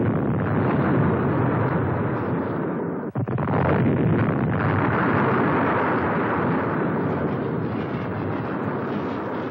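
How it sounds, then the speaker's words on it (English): American tactical airstrikes at Khe Sanh produce a dense, rumbling barrage of explosions, with one sharp blast cutting through the sustained thunder. "Tactical airstrikes soon average 400 a day."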